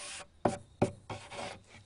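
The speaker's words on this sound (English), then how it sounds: "wipe down the bench to remove sanding dust" A cloth wipes sanding dust off a wooden bench in a few short, quiet rubbing strokes, two of them sharper swipes, close by with no voices.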